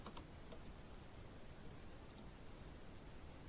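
Steady typing on a computer keyboard while entering text in MS Word, a continuous close stream of soft key clicks over a noisy background with a few sharper taps.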